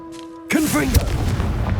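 Confringo fire spell blast in the video game Hogwarts Legacy: a sudden loud burst after a brief steady tone, with a sweeping, crackling tail that fades over about a second.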